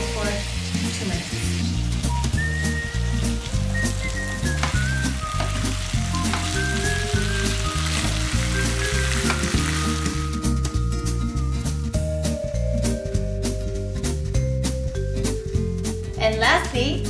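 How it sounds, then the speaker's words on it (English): Dakgalbi and spaghetti stir-frying in a pan, a steady loud sizzle with stirring scrapes throughout, while music plays over it and a voice talks. "stir fry the spaghetti together and cook for 2 minutes"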